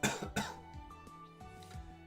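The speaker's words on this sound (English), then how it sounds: "Is the coughing gonna mess with the calibration?" Two sharp coughs close to the microphone, a quick pair at the start, then a quiet hum.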